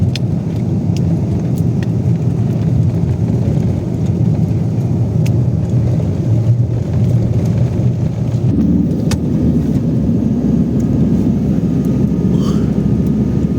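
A car drives home out of the city, giving a steady, loud low rumble of engine and road noise with no break.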